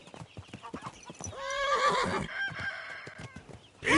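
Horse in Kingdom Come Deliverance 2 with clip-clop hooves and a loud whinny in the middle, the animal close by and the hoofbeats running throughout.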